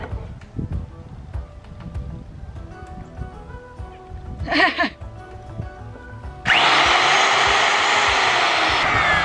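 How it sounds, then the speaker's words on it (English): A wood router switches on and runs with a loud, steady high whine while cutting around a plywood cabinet door, following a stretch of quiet handling noises and a brief motor blip. "So I'm gonna place the router, pull it into the wood, and go around the entire outside."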